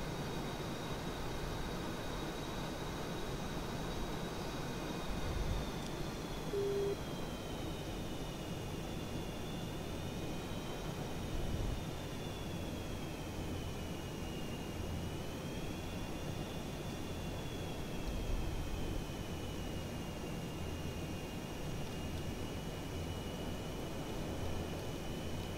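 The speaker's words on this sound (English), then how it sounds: "Darn, though, I got some laggy airplanes in here." Airplane engines drone in a flight combat video game, a steady jet-like roar with a thin whining tone that rises and falls, continuous and fairly faint throughout with no talking.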